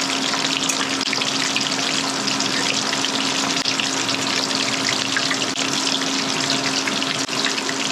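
Chicken wings coated in egg batter fry steadily in hot oil, producing a dense, continuous sizzle and bubbling crackle that stays even and loud for several seconds, with a faint steady hum beneath and no talking.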